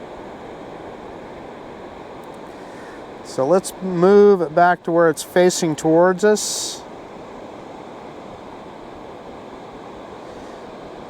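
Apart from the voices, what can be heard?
wind blowing outdoors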